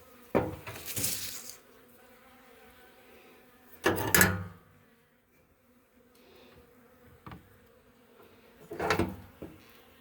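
Honeybees buzz faintly around an opened beehive during an inspection, a low steady drone broken by three louder bursts of handling clatter.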